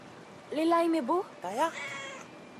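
Cat meowing in the video game Brothers: A Tale of Two Sons, two drawn-out, rising and falling meows in close succession, clear and fairly loud over a faint background bed.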